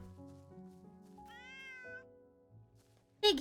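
A cat gives a drawn-out yawn with a faint squeaky vocal edge, quiet and close in a calm indoor room, followed by a brief louder rustle at the end.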